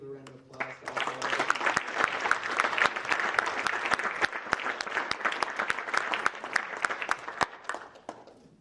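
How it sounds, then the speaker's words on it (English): An FFA banquet audience at West Grand High School breaks into sustained applause: dense, close clapping that builds quickly and holds steady for several seconds before tapering off. "if we could please give a round of applause to all of them"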